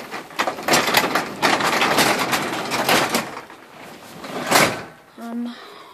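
A newly installed, lighter garage door is moved along its tracks, giving a sustained rumbling and rattling roll, then a quieter scrape and a brief clatter near the end, with people talking during it.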